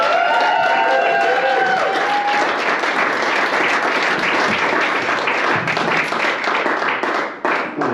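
A comedy show audience applauds a comedian in a basement venue: dense, loud clapping from a close crowd that holds steady for several seconds before tapering slightly near the end.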